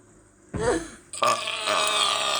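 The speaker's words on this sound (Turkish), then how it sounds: "evet bir geğirmeyle bitiriyoruz sayın seyirciler" A single loud, drawn-out human burp rises from a quiet background and carries on in a rough, gravelly second burst until the end.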